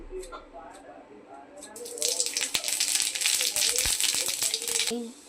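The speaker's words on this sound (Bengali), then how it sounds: "পালং শাকের তেলটা গরম হয়ে গেছে, ফোড়নে দিচ্ছি 5 ফোড়ন" Five-spice seeds hit hot oil for spinach and burst into a loud crackling sizzle that rises suddenly and holds for about three seconds, preceded by a few faint clinks and a quiet voice.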